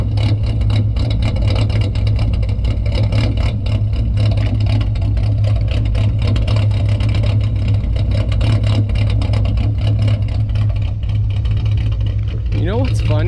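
A 2008 Ford Mustang 4.0 V6 with an idle chop mod idles close by, its steady low thrum broken by a rough, choppy pulse throughout, with a sharp sweeping sound near the end.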